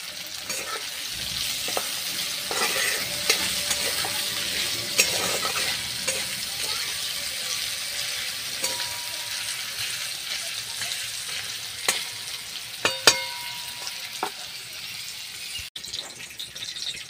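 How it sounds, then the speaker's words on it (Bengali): Onions frying with a pinch of turmeric in a pan for a potato dum dish, a steady close sizzle with scraping stirring clicks throughout and a few sharper knocks near the end, no talk. "সামান্য একটু হলুদ গুঁড়ো দিয়ে দিলে পেঁয়াজ ভাজাটা খুব ভালো হয়"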